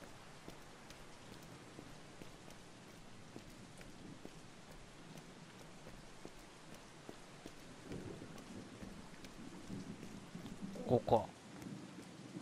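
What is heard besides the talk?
heavy rain and thunder in video game Beyond Two Souls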